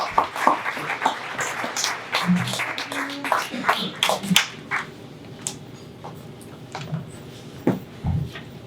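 Scattered applause from a live event audience welcoming a reader to the stage, uneven claps and a few louder snaps that thin out toward the end, with faint voices in the room.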